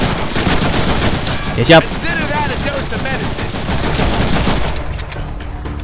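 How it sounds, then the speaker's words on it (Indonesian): Gunfire aimed at the player in the Deadpool video game rattles in a dense, continuous volley, with someone speaking briefly over it. "Aduh, ini kemana sih yang nembak-nembakin gua?"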